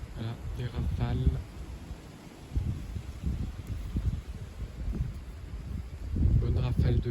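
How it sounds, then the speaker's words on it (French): A strong gust of wind rumbles and buffets the microphone outdoors during blustery March shower weather after a recent hailfall, the deep roar surging in waves, with brief muffled voices near the start and end. "Bonne rafale de vent."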